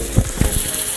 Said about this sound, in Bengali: এখন আমি এই পেঁয়াজটা দিয়ে দিছি, রসুন বাটাটা দিছি